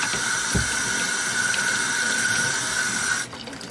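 Warm water runs steadily from a tap while UGG boot soles are cleaned, a continuous close hiss and splash that stops abruptly near the end.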